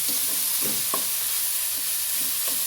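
A pan of elephant-foot yam flower thoran is stirred while it sizzles, with a steady hiss broken by several light scraping strokes of the spoon at irregular intervals.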